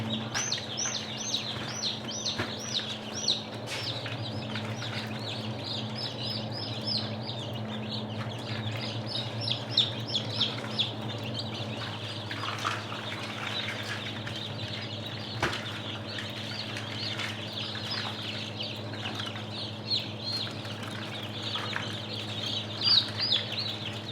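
Many Bresse chickens cluck and squawk together in a pen, a continuous, busy chorus, with occasional flapping and a low hum in the background.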